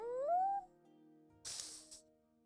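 A cartoonish cat in the RPG Eiyuden Chronicles: Hundred Heroes gives one rising meow, followed by a soft pause and a short burst of bright rustling or scratching game effects.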